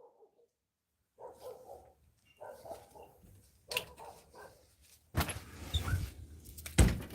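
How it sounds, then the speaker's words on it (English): A dog barks outdoors on a pleasant day in several short bursts of a few barks each, at moderate distance, followed by louder rustling and handling noise near the end. "you can't even enjoy a nice day without that dog barking"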